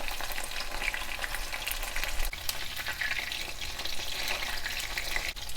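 Chicken pieces for Chicken 65 gravy fry in a pan of oil, giving a continuous close sizzle with bubbling crackle. A few faint knocks sound from the pan, and nobody speaks.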